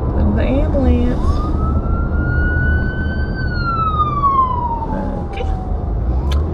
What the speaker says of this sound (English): Ooh, the ambulance.